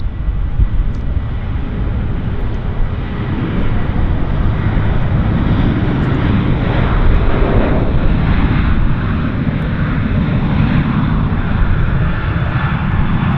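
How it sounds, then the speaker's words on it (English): WestJet airliner rolling down the runway on its takeoff run, a loud, steady roar of jet engines held at full power throughout with no break, heard alone without voices over it. "Got a WestJet on the roll here."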